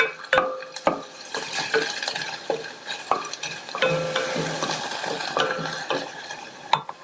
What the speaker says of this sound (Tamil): அதையும் சேர்த்துட்டு லோ ஃப்ளேம்ல வச்சு ஒரு 2 நிமிஷம் போல வதக்கிக்கங்க